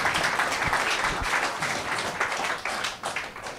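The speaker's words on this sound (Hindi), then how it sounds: "Give a clap offering to Jesus." A church congregation clapping together, a dense burst of many hands with sharp individual claps, close and lively, fading a little toward the end.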